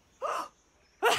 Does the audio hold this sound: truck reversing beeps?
no